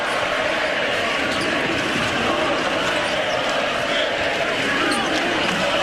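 Steady roar of a packed college basketball arena crowd at the O-Dome during a Florida Gators versus Ole Miss game, a dense, continuous wash of cheering and noise.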